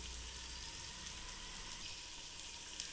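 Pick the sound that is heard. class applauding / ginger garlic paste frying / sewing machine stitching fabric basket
ginger garlic paste frying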